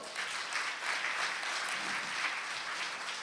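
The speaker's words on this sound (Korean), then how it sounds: "네, 박수 한번 주시죠." Audience applause at a talk concert, a steady dense crowd clapping that fills the whole stretch at even loudness, with no speech over it.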